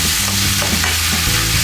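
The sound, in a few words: mincing sausage meat sizzling in a frying pan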